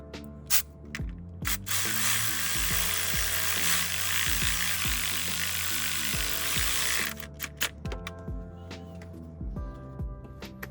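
Hand ratchet turning the bolt that holds a camshaft position sensor on a BMW E39 540i/E38 740i M62 V8 engine, with clicking strokes around a long steady hissing stretch, close up.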